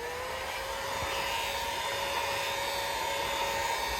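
A heat gun blowing hot air onto the adhesive backing of a Nissan GTR footwell lighting strip, a steady close whirring roar with a constant whine, running evenly throughout without talk.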